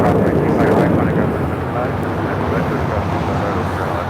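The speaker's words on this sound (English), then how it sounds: "615 taking off to Cancun on a 737-900ER." A Delta Airlines Boeing 737-900ER takes off at LAX, its engines giving a broad, steady roar that fades slightly as it climbs away, with wind buffeting the microphone and voices talking over it.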